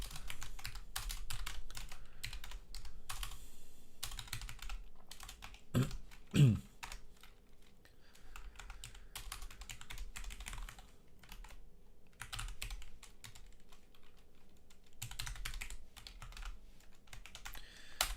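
Rapid typing on a computer keyboard while a programmer works in git and .NET 6 code, a dense, continuous clatter of close keystrokes with a few heavier knocks midway and no talk.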